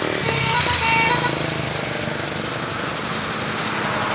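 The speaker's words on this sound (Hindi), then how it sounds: "ये 2009 मॉडल ट्रैक्टर है।" A 2009 Farmtrac 65 EPI tractor with a 60 hp three-cylinder engine runs steadily and loudly nearby, a dense continuous rattling drone with no talk over it.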